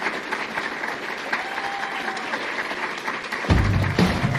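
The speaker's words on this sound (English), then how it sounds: "a big round of applause" Steady applause from an audience at Joe Biden's public address after leaving office, a continuous dense wash of clapping with a fuller swell near the end.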